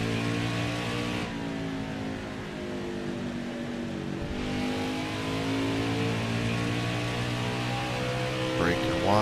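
A NASCAR race car engine in NASCAR Heat 5, Xfinity series at Watkins Glen, droning loudly at high revs with steady harmonic whine that shifts as it powers out of a corner, under someone commentator's talk.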